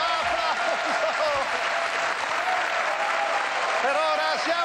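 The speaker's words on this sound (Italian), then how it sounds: "Applauso, applauso, applauso!" Steady applause from a 1993 Italian television studio audience fills the whole stretch, dense clapping with a voice briefly calling out over it.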